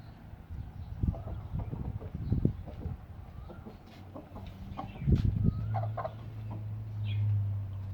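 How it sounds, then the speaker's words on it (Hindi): Hens gather near a caged coop, giving scattered short clucks and soft calls over a low steady hum, moderately close. "ये मुर्गी सारी इधर ही आ गई है।"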